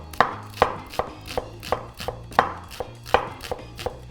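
A knife slices shallots into thin half circles on a cutting board, about a dozen crisp, evenly paced chops heard close and clear with no talking.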